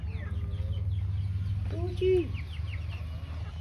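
A criollo hen clucking briefly on a sunny farm, one short cluck rising over a steady low rumble, with a person speaking nearby.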